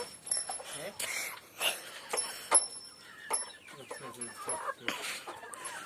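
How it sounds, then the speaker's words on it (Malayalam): A domestic chicken being raised on a homestead clucks in short, scattered bursts, fairly close, with a person talking intermittently and a faint high electrical whine running throughout. "ഇതാണ് നമ്മളെ കോഴി."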